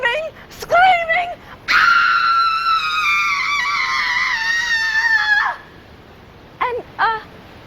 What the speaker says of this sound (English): screaming in ecstasy, screaming, screaming, screaming